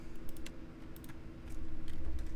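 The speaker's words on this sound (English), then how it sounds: "Sorry about the loud typing." Loud computer keyboard typing in rapid, irregular bursts of clicky keystrokes, close and dry, with no speech, growing denser and heavier toward the end during a Pillars of Eternity 2: Deadfire playthrough.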